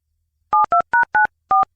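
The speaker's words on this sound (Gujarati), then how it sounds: "એમને ફોન કરીને પૂછી જોઉં" A telephone keypad sounds five crisp dual-tone beeps, four in quick succession and a fifth after a short pause, loud and alone.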